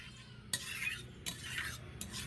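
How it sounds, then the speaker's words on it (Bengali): Fried paneer is mixed into spinach paste in a pan, with a few soft scrapes and knocks of a spoon against the pan over a quiet background. "আবারও একবার মিশিয়ে নেব ভালো করে।"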